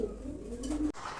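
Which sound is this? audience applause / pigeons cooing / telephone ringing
pigeons cooing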